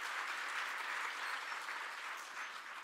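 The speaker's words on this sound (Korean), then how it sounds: "우리 찬양단 마지막까지 수고해달라고 큰 박수로 격려해 주시기 부탁드립니다." A church congregation at Gangnam Central Baptist Church's special early-morning prayer service applauds the worship team, a steady, even wash of clapping that holds throughout and sounds somewhat distant and soft.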